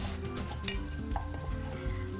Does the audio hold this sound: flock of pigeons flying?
no